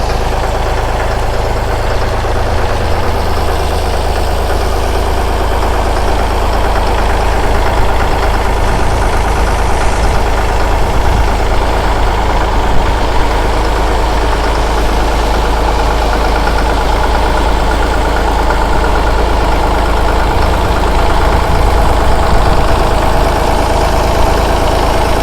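A Massey Ferguson tractor engine idles steadily and close by outdoors in the rain, a constant low diesel rumble with a slight knocking texture and a broad wash of noise over the full duration.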